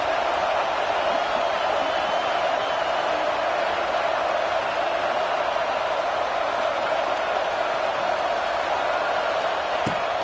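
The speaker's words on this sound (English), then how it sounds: "This crowd trying to make life miserable for this offense." A stadium crowd roars in an NCAA football video game, a steady, dense wall of crowd noise holding constant and loud for the whole stretch, with a faint thump near the end.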